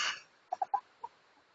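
Three hens in a small pen give a few soft, short clucks close by, four brief notes after a rustling start, with quiet between them.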